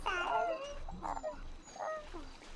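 A dog whimpers in a GTA RP video game scene, with high, wavering whines rising and falling in short bursts across the moment, fairly close and clear, with faint background noise.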